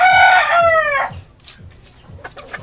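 A rooster crows loudly and close for about a second, then pullets and chickens cluck in short, scattered calls at a farm, with no talking.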